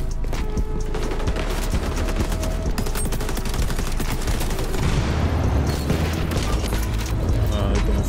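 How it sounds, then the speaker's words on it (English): Dense gunfire and flashbang bursts in the XDefiant shooter game, a loud, continuous stream of rapid shots and booms with no pauses. "They're doing flash bangs and shit."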